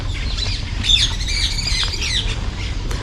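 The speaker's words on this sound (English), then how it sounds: "Oh no, those are parrots." Parrots squawk in a historic city park zoo in Athens, giving shrill cries over steady outdoor background noise, with one louder call standing out among fainter ones.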